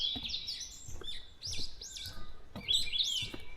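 Thrush calling in the morning outdoors, a series of clear, whistled phrases repeating every second or so at moderate distance, with no voices.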